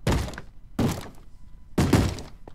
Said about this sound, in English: Stop banging on the door.